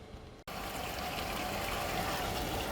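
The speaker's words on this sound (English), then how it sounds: "basically it's a spray ball on top of a" Steady rushing water spray from a pump through a spray ball atop a small brewing vessel starts abruptly after a brief moment, continuing as a constant, dense hiss close by.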